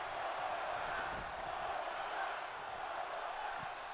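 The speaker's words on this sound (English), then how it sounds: "This crowd is all over it" Arena crowd in the WWE 2K24 wrestling game roars steadily throughout, a continuous wash of cheering and noise with no single standout voices.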